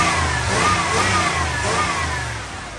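A crate motor swapped into a car idles close by, with its low engine rumble rising and falling through a couple of light revs in a short burst.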